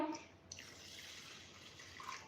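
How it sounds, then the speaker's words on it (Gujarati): Rice is washed in a bowl of water, heard as a faint, brief swish and trickle of liquid with a light splash near the start. "ચોખાને આપણે 3 પાણીથી ધોઈ લેશું."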